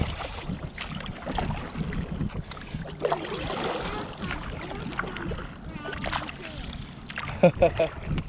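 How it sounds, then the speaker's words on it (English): Kayak paddling on a lake near stumps and grass flats, with soft splashes and water sloshing under wind and steady nearby talk, a few sharper splashes near the end. "we're paddling back quick"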